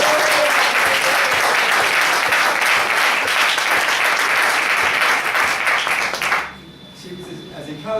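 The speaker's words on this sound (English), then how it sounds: "She needs another round of applause." An audience at a gathering gives a round of loud, continuous applause for about six seconds before it cuts off sharply, leaving faint room noise and a brief voice.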